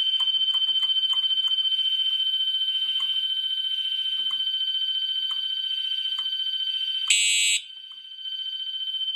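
A UMT fire alarm horn blares in a continuous, steady high-pitched tone during a system test, with a brief harsher burst near the end and faint clicks in the background.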